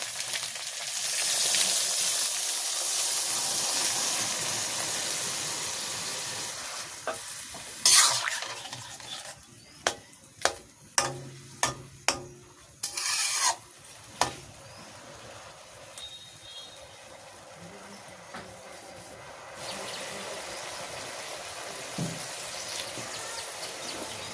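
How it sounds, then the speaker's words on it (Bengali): Fried fish hisses in a pan before water is added, giving a brief loud burst. A run of sharp utensil clanks follows, then a softer bubbling sizzle of simmering returns. "তো মাছ দিয়ে সুন্দর করে একটু ভাজি ভাজি করে নিলাম। এখন আমি জল দিয়ে দেবো।"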